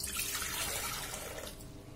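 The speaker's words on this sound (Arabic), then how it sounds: "غادي ندير 1000 غرام ديال الماء" Water poured steadily into a Thermomix bowl while making a sweet pumpkin recipe, a continuous rushing, splashing flow that fades slightly near the end, with no voices.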